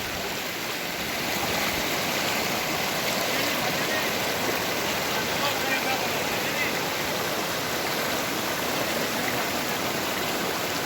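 A flooded stream rushes through the village streets of Konapur in Kodimyal mandal after heavy rain, a loud, steady broadband roar that continues without a break.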